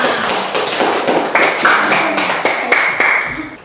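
A classroom of schoolchildren claps together after finishing their presentations, a close, dense patter of hand claps with a few brighter taps and a faint ringing tone, lasting a few seconds.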